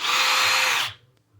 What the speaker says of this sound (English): About every time I fire up the drill, he croaks back.